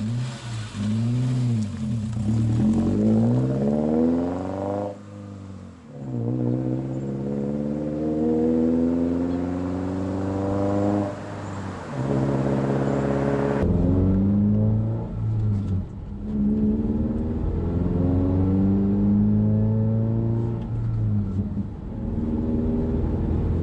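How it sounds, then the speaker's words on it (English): 2009 Subaru Forester with a loud aftermarket exhaust, engine droning and rising in pitch through acceleration, heard from inside with a steady loud exhaust note and no talk. "this exhaust setup is a bit too loud for my taste at about steady 3000 RPMs"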